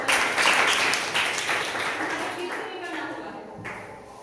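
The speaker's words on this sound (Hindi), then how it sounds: "वेरी गुड, इनके लिए ताली बजा दो" Students and audience applaud at a school ozone day eco-club quiz competition, a broad burst of clapping that starts loud and slowly thins out over a few seconds, with some voices audible underneath.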